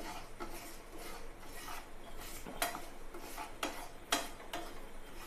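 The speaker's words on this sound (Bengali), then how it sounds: "ডালটাও মোটামুটি দেখো ভেজে ফেলেইছি, তাও একটু ডালটা নাড়াতে হবে নাহলে পুড়ে যাবে" A spoon stirs lentils dry-roasting in a pan for khichuri, producing intermittent scraping and clinking strokes against the metal at an uneven rhythm, close up and moderately quiet.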